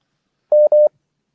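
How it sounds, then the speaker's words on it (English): A phone rings during a remote interview call, two short, steady electronic beeps in quick succession, loud and close, with no talk over them. "sorry, Ryan, I could hear your phone ringing"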